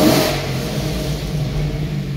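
A tuned car engine running smoothly with an SCT data-logging device attached, heard close with a brief rev at the start that settles into a steady, even hum.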